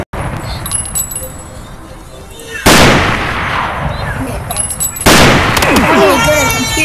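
Gunfire cracks in the first-person shooter Warface: two loud, close bursts with ringing metallic tails, separated by a stretch of steady game ambience.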